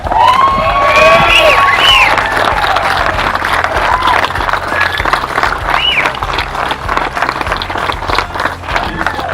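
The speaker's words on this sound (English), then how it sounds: "But I think we are a big round of applause for Dave Mull" A crowd at the Southern Pacific #18 Silver Spike Celebration claps and cheers loudly, with excited shouts and whistles rising over the applause before it tapers into scattered clapping.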